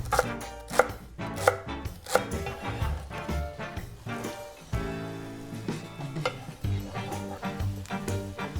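A knife chops celery finely on a cutting board for bread stuffing. The blade lands in quick, sharp strikes that come in irregular bursts and stand out close and clear, with no voices.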